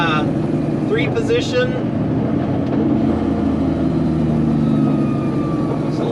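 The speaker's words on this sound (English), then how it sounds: "Downshifting for a light." Truck engine downshifting while slowing for a traffic light, a steady low heavy rumble with a shifting drone, under someone talking throughout.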